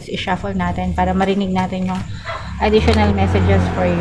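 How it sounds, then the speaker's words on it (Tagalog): A neighbour's dog barks outside at night in a quick series of repeated barks, then pauses, and a few more follow. The barking is mid-distance and mixed under a person talking close by. "kung naririnig nyo yung tahol ng aso sa labas"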